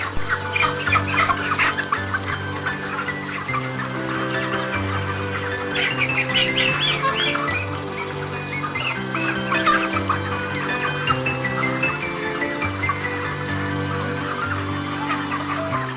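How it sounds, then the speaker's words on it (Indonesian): Broiler chickens in a poultry house cluck and squawk loudly as birds are caught at random for weighing. The flock calls continuously, with sharper squawks rising above a dense, steady chorus of clucking. "Setelah itu kita menangkap ayam yang akan ditimbang secara acak."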